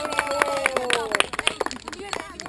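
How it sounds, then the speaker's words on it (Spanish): A small group of people claps and calls out in applause for someone named Melo, with scattered claps and cheerful voices. The clapping thins toward the end. "¡Aplauso para Melo!"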